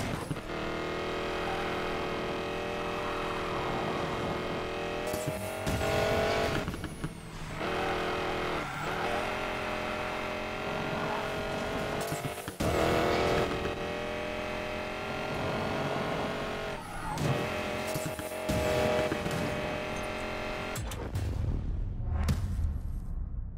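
Race car engine from Need for Speed Payback roaring continuously at high revs, with gear shifts, tire squeals and skids, loud and close throughout, then dropping away at the end.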